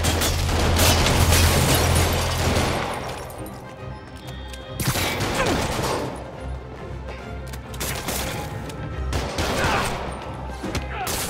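Gunfire in the Spider-Man video game, with heavy bursts of shots and booming impacts over a low rumble, swelling and dropping in loud waves across the scene.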